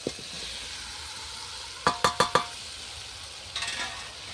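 Vegetables sautéed with spice paste in a pan over a clay stove, a steady soft sizzle under a quick run of four sharp scraping stirs near the middle and a lighter scrape near the end.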